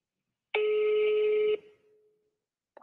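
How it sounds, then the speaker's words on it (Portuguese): Telephone call ringing out: a single steady ringback tone lasts about a second and then decays, silence follows, and a second tone begins at the very end, heard clearly without talk. "Tá chamando aqui."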